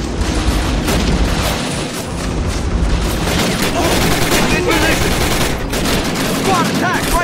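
Loud, continuous battle gunfire from the Men of War: Assault Squad 2 video game in a Ste. Mere Eglise scenario, with machine guns rattling and rifles cracking alongside booming explosions, and soldiers' voices shouting orders over the din.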